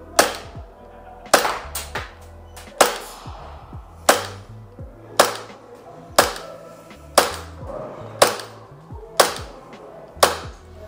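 An Umarex Glock 19 Gen5 gas replica pistol fires about ten sharp, loud cracks at a steady pace, roughly one a second, each with a short metallic clack and a brief decay.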